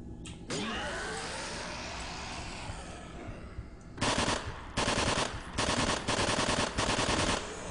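Automatic rifle fire in a horror video game, aimed at a monster: an opening shot, then several loud, sharp bursts of rapid fire in close succession, with no talking.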